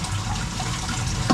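Water treatment being poured into an arowana aquarium sump, a brief steady splashing gush of liquid, close and continuous, with a small bump at the end.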